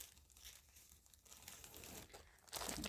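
Sheets of scrap music paper crinkle and rustle close by as they are handled, with a few soft crumpling bursts and a louder papery crunch at the end, no voices.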